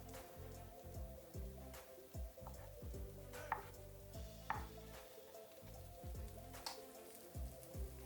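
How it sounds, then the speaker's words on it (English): Knife chopping vegan sausage on a cutting board while cooking a creamy dairy-free Cajun pasta, a string of soft, fairly quiet thuds in an uneven rhythm, with a low kitchen background hum. "Continue to cut this up."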